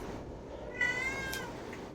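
A black cat in the horror video game Conarium gives a single clear meow about midway, alone over a quiet ambient game background.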